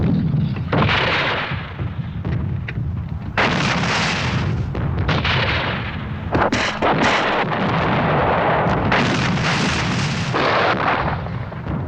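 Artillery fire in a Second World War setting at Cassino, Italy: loud, continuous barrage of heavy booming gunfire with repeated bursts and rumbling blasts throughout, no talking.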